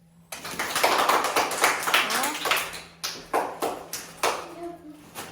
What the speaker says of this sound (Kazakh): Қол шапалақтаймыз.